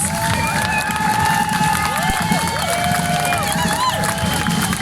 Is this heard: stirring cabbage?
no